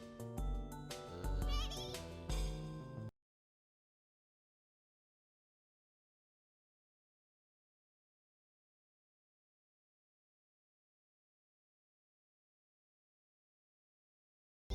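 Sheep bleating in the Pokémon Channel video game, a short burst of layered, wavering bleats lasting about three seconds before falling silent.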